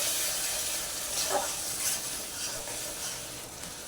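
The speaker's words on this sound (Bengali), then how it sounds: "সামান্য একটু জল দিয়ে দিলাম দিয়ে আবারও নাড়াচাড়া করছি" Masala with a little water being stirred in a pan for a fish curry, giving a continuous dense hiss and bubbling with faint scraping movements, fairly loud and steady with no talking.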